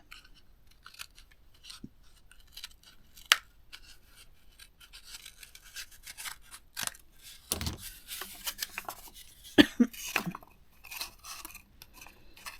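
Scissors snipping while building a homemade jewelry tool holder: a series of short, crisp cuts and scrapes at close range, irregular in rhythm, with a busier cluster of snips in the middle and no talking.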